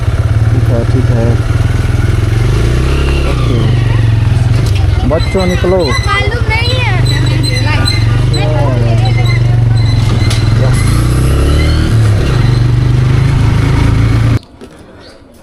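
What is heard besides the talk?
motorcycle riding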